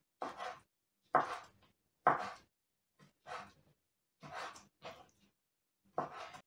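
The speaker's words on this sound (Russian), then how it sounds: "И я нарежу вот на такие кусочки." A knife chopping a skinned, boneless pink salmon fillet into pieces for a fish pie: about seven crisp, close cuts in an uneven rhythm, each a short thud against a board, with quiet pauses between.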